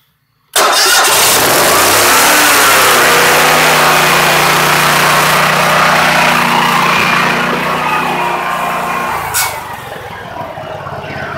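A home generator for sale starts abruptly from silence and runs at a loud, steady mid-pitched drone with a constant hum, easing slightly near the end.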